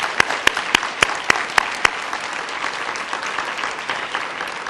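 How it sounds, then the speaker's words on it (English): A crowd at an Alzheimer's Association breakfast event applauds steadily, with several sharp, louder claps standing out near the start before the clapping settles into an even patter. "Can we give her another round of applause?"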